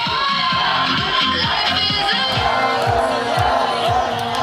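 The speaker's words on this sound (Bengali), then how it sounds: "কেউ রং উড়াচ্ছেন, কেউ আবার ভুভুজেলা হাতে উল্লাসে মেতেছেন।" A dense crowd of football fans, watching a match on a big screen, cheers loudly and continuously, with droning horn-like vuvuzela tones running through the noise and no clear speech.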